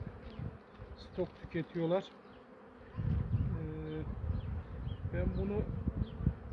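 Honeybees buzz in a steady, close drone around a hive in Ardahan while someone talks over them.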